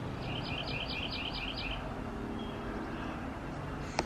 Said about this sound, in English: as you can hear, the birds are singing